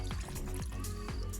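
Tap water pours steadily into a container beside a garden pond during a fish pond water change, a faint continuous trickle with small gurgling bubbles and drips, heard alone and close.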